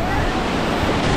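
Amboli waterfall in Maharashtra, a loud broadband rush of falling water, dense and continuous, with some wind buffeting on the microphone.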